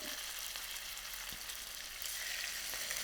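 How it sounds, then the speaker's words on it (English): Steady crackling sizzle of sliced chicken breast frying with garlic in a hot pan, continuous and close, with no talking. "You can hear it sizzling up."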